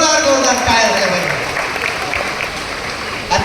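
Loud, dense applause from a crowd greeting a singer at a temple event in Maharashtra, a continuous roar of clapping that holds steady throughout with no pauses.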